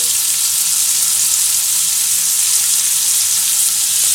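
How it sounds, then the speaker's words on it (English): Butter sizzles steadily in a hot pan alongside a cooking steak, a continuous bright frying hiss that stays loud and even throughout with no talking. "now we add some butter"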